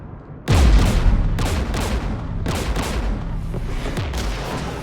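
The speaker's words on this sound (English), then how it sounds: "We're taking fire." Gunfire on Rannoch in Mass Effect: after a sudden loud onset, heavy booming bursts hit in a steady series roughly every second, each one thudding deep and then trailing into a rumbling wash of sustained fire.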